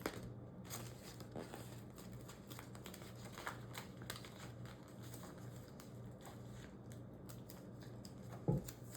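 Scissors trim a paper sticker in half for a Hobonichi Cousin planner page, giving a series of quiet, close, crisp snips and paper rustles with no talking.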